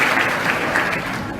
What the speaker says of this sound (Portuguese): uma salva de palmas para essa mulher